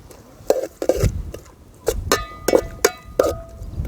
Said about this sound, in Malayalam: അപ്പോൾ അടുത്ത് അരിഞ്ഞു വെച്ച ഉള്ളി നമുക്ക് ഇട്ട് കൊടുക്കാം.